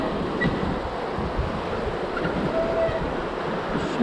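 Rapids on the Athabasca River during a raft trip in the Canadian Rockies, a steady loud rushing roar of churning water mixed with wind noise on the microphone and no speech.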